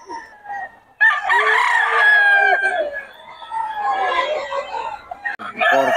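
Chickens and roosters at a poultry sale in San Ildefonso, crowing loudly and clucking close by, with several long overlapping crows and a voice talking briefly near the end.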